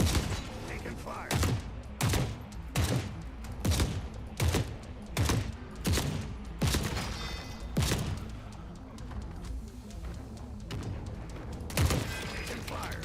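Rapid gunfire in The Forever Winter, a game battlefield, rattles in a steady run of loud, closely spaced shots that thin out toward the middle and return near the end.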